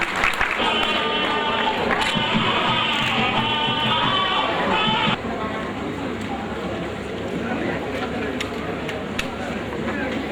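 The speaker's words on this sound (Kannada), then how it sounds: "ಅವ್ರಿಗೆ ನಾವು ಒಂದು ಚಪ್ಪಾಳೆ ಕೊಡ್ಬೇಕಲ್ವಾ?" Dense crowd applause fills a temple inauguration at the Saptaswara Devata Dhyana Mandira in Rudrapatna. Steady clapping runs throughout, with voices and tonal music layered over it during the first half.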